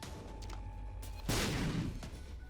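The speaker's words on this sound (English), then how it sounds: "It lobs an explosion. It lobs a bomb, basically." A bomb lobbed by Bob's Rotten Head goes off in The Binding of Isaac: one sudden, loud, broadband blast that rings out for under a second, following a stretch of quieter game sounds, with no talk over it.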